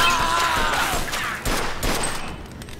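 Rapid bursts of gunfire from a crime shootout in Mafia II on PS5, several loud cracks and a sustained volley over game ambience, fading toward the end.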